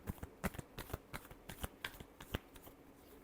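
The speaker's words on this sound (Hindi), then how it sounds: "last shuffle" Tarot cards being shuffled by hand, a quick run of crisp riffling slaps and flutters in an uneven rhythm, close and fairly soft, with no talking.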